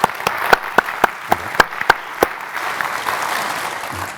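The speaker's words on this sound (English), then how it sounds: "I can give her a round of applause" A few distinct, sharp handclaps ring out at a pension conference plenary session, then blur into a softer, steady wash of audience applause that carries on to the end.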